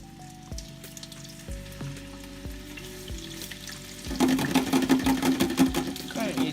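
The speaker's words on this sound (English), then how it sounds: "Don't you just love a deep fat fryer?" Crisps hit the hot oil of a deep fat fryer in a home kitchen, bursting into a loud, dense, crackling sizzle after several seconds of soft, steady tones.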